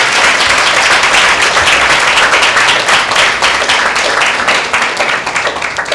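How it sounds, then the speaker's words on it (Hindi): Congregation in a church during a Sunday meeting giving loud, continuous applause, dense clapping sustained throughout without any talk. "जोरदार ताली देंगे प्रभु यीशु मसीह के नाम।"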